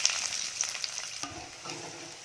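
Onion hits hot oil already crackling with cumin and mustard seeds for a vegetarian lunch: a soft, steady sizzle with a single clink of a utensil midway, frying continuing gently afterward.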